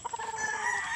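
A young rooster at a gamecock farm lets out a brief, sustained crow, fairly faint and close, with no talking.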